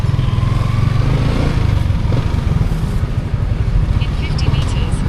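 Motorcycle engine droning steadily while riding, a loud close low rumble with wind noise running the whole time, and faint chirps near the end.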